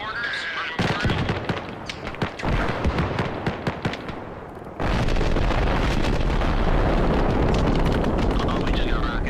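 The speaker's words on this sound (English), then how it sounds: "Oh, we just got rocketed." A rocket explodes in Arma Reforger with a heavy boom that gives way to a loud, sustained rumbling roar, preceded by scattered distant gunshots and crackling combat noise.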